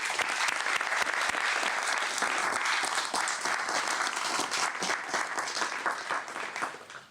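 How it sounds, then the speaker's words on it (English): Applause from the audience at a press conference announcing the Moravian Church Settlements in Bethlehem: a dense, steady clapping that holds for several seconds and slowly thins toward the end. "let's give them all a round of applause"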